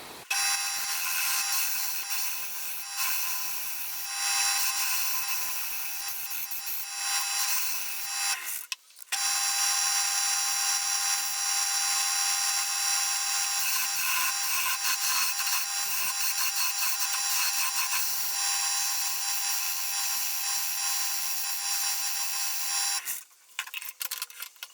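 A wood lathe cuts a pumpkin-shaped Halloween hollow form, a sustained loud scraping whine with steady tonal ringing that stops briefly near the middle and again close to the end.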